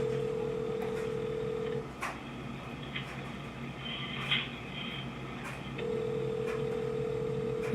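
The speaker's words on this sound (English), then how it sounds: "Did you hear the phone ringing?" A telephone rings in short electronic tone bursts at a Christmas gathering, faint and somewhat distant behind room noise, with a long steady tone dropping out and returning partway through.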